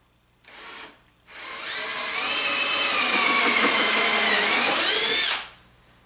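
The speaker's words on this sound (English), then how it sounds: "So let's drill this part first" A power drill with a regular drill bit whirs briefly, stops, then runs steadily for several seconds as it bores into wood for an Adirondack high chair before winding down. Close and loud, no talking.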